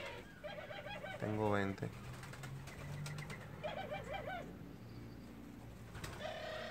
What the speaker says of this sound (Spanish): Son 16 tórtolas turcas o tórtolas habaneras. Y 4 collarines y 4 tórtolas de collar doméstica.